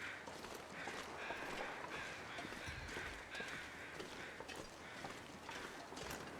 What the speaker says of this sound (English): Man, those crows are loud.